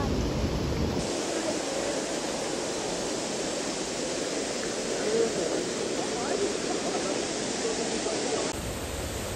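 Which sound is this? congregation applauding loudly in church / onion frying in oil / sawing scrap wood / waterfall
waterfall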